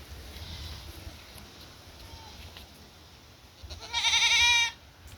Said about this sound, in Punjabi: ਇਹ ਵੀਰ ਲੈ ਕੇ ਆਇਆ ਬੱਕਰੀਆਂ ਬਰਬਰੀ ਤੇ ਬੱਕਰੇ ਵੀ